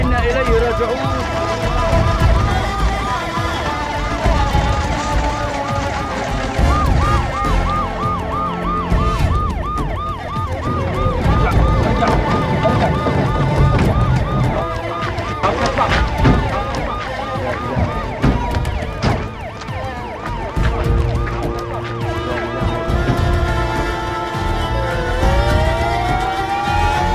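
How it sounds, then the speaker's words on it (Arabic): An ambulance siren wails loudly and repeatedly at an accident scene in a drama series, with traffic noise and excited voices talking over it throughout. "الاسعاف!"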